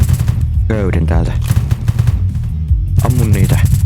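Bursts of video game gunfire in a robbery game, several short cracks and rattling volleys at moderate volume, with players talking over them.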